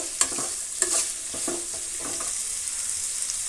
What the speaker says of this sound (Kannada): ಇವನ್ನೆಲ್ಲ ಫ್ರೈ ಮಾಡ್ಕೊಳ್ಳೋಣ ಒಂದು ಐದು ನಿಮಿಷ ಫ್ರೈ ಆಗಬೇಕು